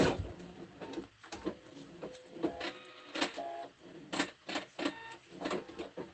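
Domestic sewing machine stitching and backstitching through a quilted hot pad, a rapid mechanical whirring that comes in short bursts of varying length with brief pauses and clicks between, close by and fairly loud.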